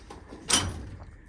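A metal tool box drawer slides open with a single quick, fairly close scrape inside a mobile mechanic's service van, then quiet follows.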